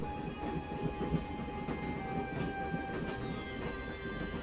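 Steady rumbling train ambience inside the Broken Sword adventure game, with a continuous low rolling drone and faint clatter throughout, no talk over it.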